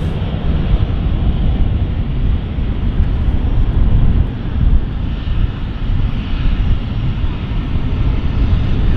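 A Dornier 328 turboprop heading onto the runway at London City Airport gives a loud, steady engine roar with a constant low rumble and whine, unbroken throughout and fairly close.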